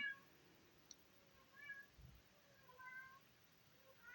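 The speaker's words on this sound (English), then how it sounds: "I hear a cat singing in the next room." A cat meows a few times in a video game, the calls faint and spaced apart as if from the next room, over a quiet hushed background.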